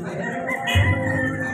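A rooster crows nearby at a housing area in Smokey Mountain, Tondo, Manila, a short loud call over steady outdoor background noise.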